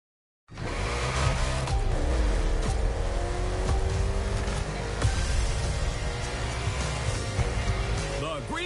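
A race car engine roars during an urban street race in Hawaii, kicking in abruptly and holding a loud, sustained drone with rising revs and occasional tire noise, while a voice talks over it.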